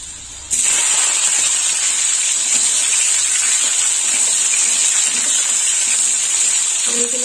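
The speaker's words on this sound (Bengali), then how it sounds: "এবার দিয়ে দেবো টমেটো।" Tomato dropped into hot oil with crushed garlic in a pan while cooking tangra posto: a sudden loud, steady hiss of sizzling starts just after half a second and continues unbroken to the end.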